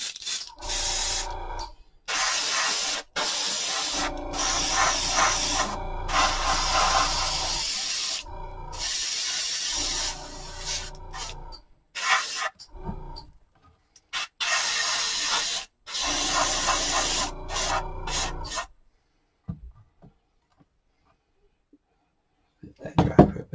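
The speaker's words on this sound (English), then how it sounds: "Now I'm going to be painting the doors and the windows at the back of the building." A spray can applies dark gray paint to the doors and windows of a model courthouse building, in repeated hissing bursts of a few seconds each separated by short pauses, then quiet.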